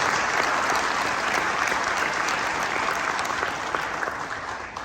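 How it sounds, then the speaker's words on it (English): A crowd at New York City Hall claps for Kosovo Independence Day, the sustained, full applause holding strong before tapering off slightly at the end. "Let's give New York City a round of applause."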